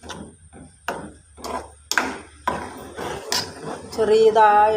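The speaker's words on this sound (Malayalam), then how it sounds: "നന്നായി ഇളക്കി കൊടുക്കും." A thick curry is stirred in a cooking pot, with a spoon scraping and knocking against the pot in repeated strokes close by, and no talk.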